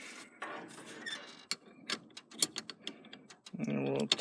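A ratchet wrench clicks in short irregular bursts while tightening a bolt on a 1984 GMC S15, sharp close ticks and clacks with brief pauses, ending in a steadier buzzing rattle.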